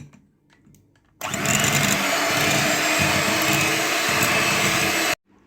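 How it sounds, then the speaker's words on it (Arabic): Electric mixer whipping ice-chilled cream with powdered sugar and vanilla, a steady loud motor whir with a churning, whooshing tone that starts abruptly, runs for about four seconds and cuts off sharply, heard up close. "هنضرب بقى بالمضرب فيه كده لحد ما يتقل معانا"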